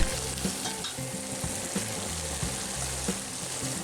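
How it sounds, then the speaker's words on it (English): Pork shoulder meat added back into an enamel cast iron pot with rendered pork fat and softened onions, sizzling steadily up close with crackling spatter and stirring scrapes, no talking. "Now we add all of the meat back into the pot."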